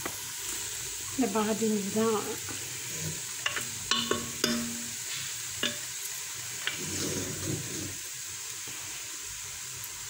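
Chopped vegetables with a small onion sizzle and are stirred in a pot for a vegetable soup, a steady close frying hiss with intermittent scraping stir strokes, under brief speech.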